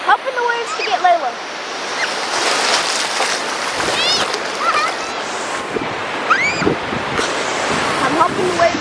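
Ocean waves break steadily on a beach under a constant broad wash of surf, with voices and excited calls layered over the roar throughout.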